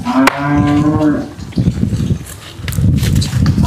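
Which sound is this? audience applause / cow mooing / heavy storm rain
cow mooing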